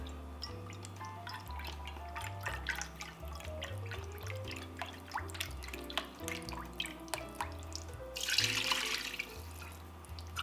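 Bone broth trickles and splashes as it is poured into an Instant Pot for chicken soup, a soft liquid stream with small drips over a background of music.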